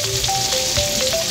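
Garlic and onion fry in a pan with a loud, steady, close sizzle.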